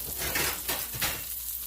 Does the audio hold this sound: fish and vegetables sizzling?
yes